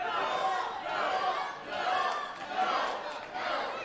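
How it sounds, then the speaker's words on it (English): A wrestling crowd at a barbed wire match shouting together in swelling waves, rising and falling roughly every second, loud and enveloping, with no single voice standing out. "The crowd kind of telling Spectre no."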